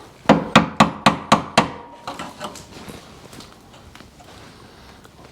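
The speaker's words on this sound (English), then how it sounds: "Oh, hammer. That's what we need." Six sharp, evenly spaced hammer blows on a seized door of a Bricklin SV-1 gull-wing car, loud and close, followed by a series of fainter, softer taps fading out.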